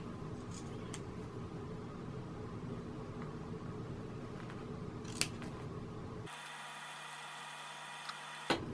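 Scissors snip steadily through the cotton fabric of a men's shirt as a sleeve is trimmed off, a dense, continuous cutting texture that gives way to a quieter hum near the end, with no talking.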